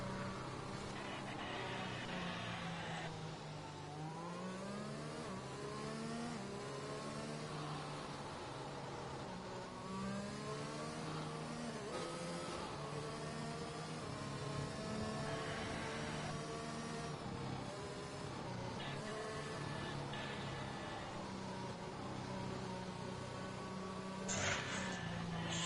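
Race car engines in the F1 2021 game at the Japanese Grand Prix, a steady droning roar of several cars with rising and falling pitch sweeps as they pass, continuous and fairly loud throughout.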